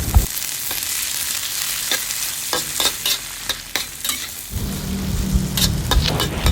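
Long beans stir-fry in a hot pan with aromatics, a continuous loud sizzle broken by repeated sharp scrapes and taps of a spatula tossing them, growing louder near the end.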